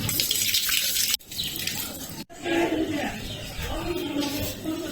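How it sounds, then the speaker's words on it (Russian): A fountain in the old town of Kotor, Montenegro, splashes steadily nearby, a continuous rushing water sound broken by two brief dropouts, with a voice talking faintly over it. "И здесь какой-то фонтан."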